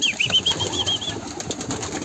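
A white-tailed pigeon and others flutter their wings in a loft, giving a quick, soft burst of flapping heard nearby. A thin whistling tone rings out at the start.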